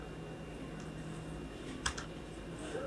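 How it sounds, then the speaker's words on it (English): Soft, fairly quiet keystrokes on a computer keyboard during web development setup, a few scattered taps with one sharper cluster over a steady fan-like hiss. "For HTML, we're going to type HTML."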